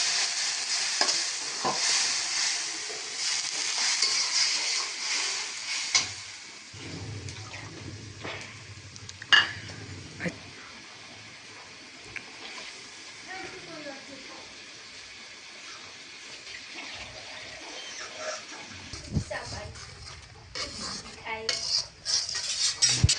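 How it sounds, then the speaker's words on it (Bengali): Spice paste being stir-fried in a pan for home-style chicken curry, with intermittent sizzling, spoon scraping and clinking against the pot, a voice talking at moments. "দেখেন কত সুন্দর করে মশলাটা কষাচ্ছে।"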